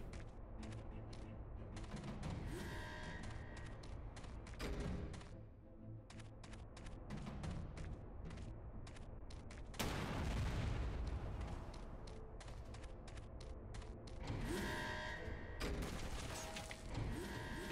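Gunfire in the Xbox 360 shooter Secret Service, bursts of rapid shots and heavy booms crackling repeatedly over a busy game soundscape, loud and continuous with brief lulls between volleys.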